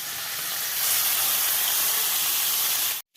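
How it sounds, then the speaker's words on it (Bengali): Fish frying in hot oil in a home kitchen pan, a steady dense sizzle and hiss up close that swells slightly and holds loud before cutting off abruptly. "এখন এই যে মাছ ভাজা বসিয়ে দিয়েছি"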